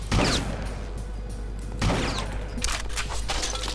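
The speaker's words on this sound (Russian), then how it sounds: "Почему ты не умираешь от дробовика?" Shotgun blasts in the BloodRayne video game, two heavy booming shots about two seconds apart over a dense rumbling game background with crackling effects.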